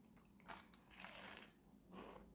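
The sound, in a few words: biting and chewing Freia Sjokoklem chocolate wafer biscuit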